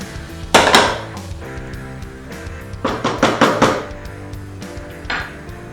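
Chicken with chilli flakes being stirred in a pan, a few clusters of sharp metallic scrapes and clanks of the spoon against the pan over a low background hum.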